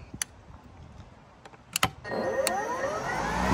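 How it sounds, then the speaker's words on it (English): A battery-powered lawnmower: a few sharp clicks from its button and handle, then the electric motor spins up into a steady whirring hum that rises in pitch and keeps running to the end. "to start this mower, press and hold this green power button and then pull the handle up"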